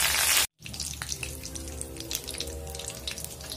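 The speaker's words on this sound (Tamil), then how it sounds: "கருவேப்பிலை நல்லா பொரிஞ்சிருச்சு." Curry leaves crackling and sizzling in hot oil, a steady close fry with dense popping, preceded by a brief loud burst and a moment of silence.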